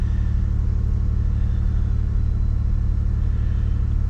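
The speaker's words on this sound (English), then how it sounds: "Now let's start the car." A 2008–2012 Chevy Impala engine runs at a steady idle after starting, a continuous low rumble with a fast even throb, close and loud throughout with no talking.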